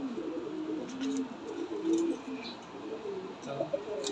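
Pigeon hens coo softly in a loft, low repeated coos rising and falling close to the microphone against a constant background murmur.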